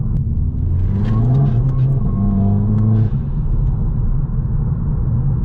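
Volkswagen Scirocco engine pulling hard under acceleration from inside the car, a loud, close low rumble with rising engine tones that drop and climb again through a gear change.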